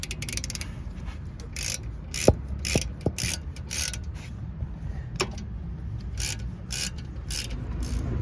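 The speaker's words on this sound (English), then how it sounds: "you can go ahead and tighten these bolts at the back here" Rear brake caliper bolts on a BMW E46 are tightened with a ratchet, producing bursts of rapid pawl clicking interspersed with a few sharp metallic knocks, close and clear with no talk.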